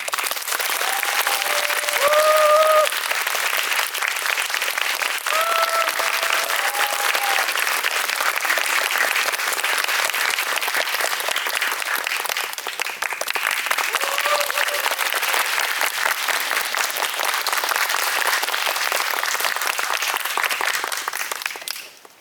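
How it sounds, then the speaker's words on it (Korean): A cinema audience gives sustained, loud applause welcoming a film director to a special screening talk. Dense steady clapping lasts about twenty seconds, with an announcer's voice briefly over it, before cutting off. "감독님 뜨거운 박수로 맞아주세요."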